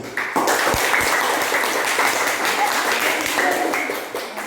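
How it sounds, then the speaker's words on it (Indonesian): Fifth-grade students in a classroom applaud a presenting group, a dense burst of clapping that carries on for several seconds, with voices mixed in. "tepuk tangan untuk kelompok 3 silakan duduk kembali"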